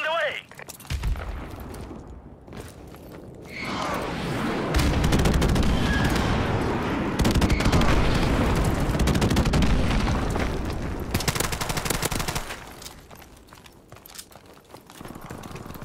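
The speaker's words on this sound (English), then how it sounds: "Friendly airstrike on the way." Gunfire and airstrike explosions from Call of Duty Modern Warfare Remastered multiplayer: sharp shot bursts build into a loud, sustained roar of blasts before fading back to scattered gunfire.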